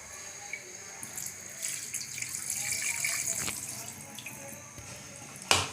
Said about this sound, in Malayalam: അരി കഴുകാം.